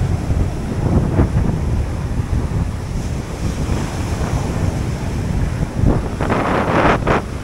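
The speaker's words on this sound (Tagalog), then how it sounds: "Tasalubong sa atin yung hangin mga kapak." Strong wind buffets the microphone out at sea where anglers are ultralight fishing, a steady broadband roar mixed with surf and wave wash, with a few louder gusts near the end.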